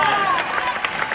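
Audience applause fills the hall at a church-style session, a steady wash of clapping with scattered cheers and crowd murmur throughout, dense and close with no gaps.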